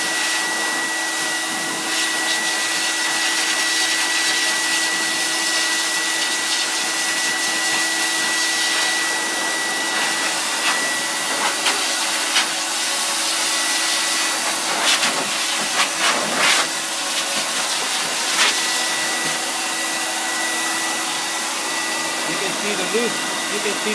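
A pet blower dryer roars steadily as it blasts through a dingo's thick fur, a loud broad hiss held for the whole stretch with small fluctuations as the nozzle moves.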